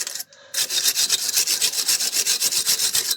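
A brush scrubs rust and dirt off Fiat Panda front strut nuts, starting with a brief stroke and a pause, then a loud, fast, steady run of rasping back-and-forth strokes close up.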